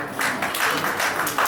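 An audience keeps clapping at a retirement event, a dense, steady wash of hand claps that swells in waves and carries on throughout, with no talking over it.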